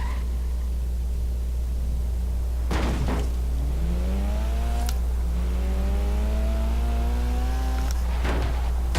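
A car engine in the Forza racing game rising through rapid revs after a downshift, with climbing whines, brief gear-change bursts and a steady low drone, loud and close with no talk.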